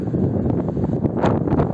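Sea wind at the shore, among trees and flowers, gusting steadily against the microphone with a low, continuous buffeting rumble.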